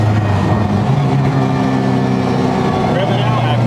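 A Honda Civic Type R engine runs hard on the street, its droning note shifting in pitch as it revs, with people talking excitedly over it throughout.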